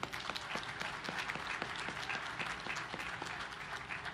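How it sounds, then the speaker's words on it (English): Audience applause at the commissioning ceremony of the US Navy destroyer USS Jack H. Lucas (DDG 125), steady and fairly faint with distinct individual claps in a large crowd. "big round of applause for them."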